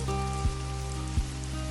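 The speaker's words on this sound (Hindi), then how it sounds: "स्टूडियो की खिड़की से बारिश की बूंदें कांच पर अजीब सी धुन बना रही थी।" Rain drops patter steadily on a studio window's glass, a soft continuous wash with two duller taps standing out, heard alone.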